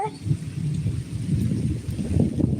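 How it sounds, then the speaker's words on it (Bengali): Rain falls steadily outdoors with a soft low rumble and gusty texture, a constant moderate wash of noise with no voices. "কিভাবে বৃষ্টি পড়তে লেগে গেছে"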